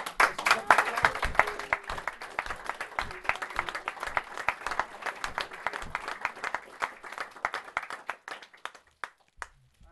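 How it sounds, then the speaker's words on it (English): An audience at a gathering gives a round of applause, a dense burst of many hands clapping with a few voices mixed in, gradually thinning out to scattered claps near the end. "So we're going to have a round of applause for my mum."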